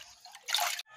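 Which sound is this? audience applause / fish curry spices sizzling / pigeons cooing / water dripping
water dripping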